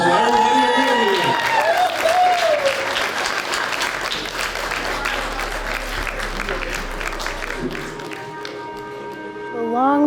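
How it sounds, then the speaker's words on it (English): Audience at an arts and sustainability event giving a round of applause, loud, dense clapping with scattered cheers over lingering tonal sound, swelling then thinning toward the end as voices and a musical tone return. "Round of applause for everybody again."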